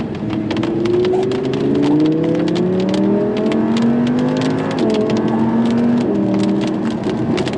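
A 2016 Audi R8 V10 Plus sports car accelerates hard in heavy rain, its V10 engine note climbing and then dropping briefly with each quick, smooth upshift, over road noise and patter.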